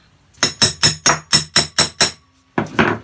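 Eight quick, evenly spaced hammer strikes ring out, then a short pause before two more blows, sharp and close by.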